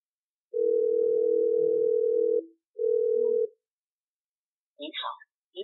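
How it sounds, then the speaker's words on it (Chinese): A phone line gives a busy signal: one long electronic tone, a short pause, then a second shorter tone. Near the end a brief recorded voice begins to speak. "拨打的电话正在 通话中"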